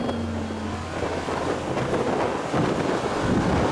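Strong wind roars steadily near a tornado in Colorado, a loud continuous rushing buffet against the microphone with low rumbling gusts and no voices.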